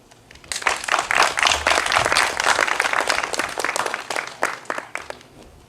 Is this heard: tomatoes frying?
no